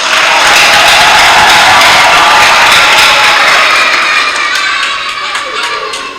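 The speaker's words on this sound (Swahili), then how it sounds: "Nimesikia na makofi na vigelegele vya watoto" Loud, dense applause from a church congregation at an Epiphany celebration, with high ululation from children and adults and mixed cheering, steady and sustained before slowly tapering off.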